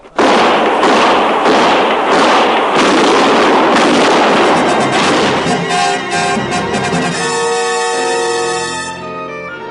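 A dense volley of gunshots in an old-time Western radio drama crackles loud and rapid for several seconds. It then fades into ringing, echoing tones, with no talk over it.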